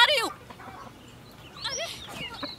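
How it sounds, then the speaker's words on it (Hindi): A hen clucks in short bursts, a quick call at the start and another flurry later, fairly near, amid a quiet room setting with light background noise. "मेरी मुर्गी भाग रही थी।"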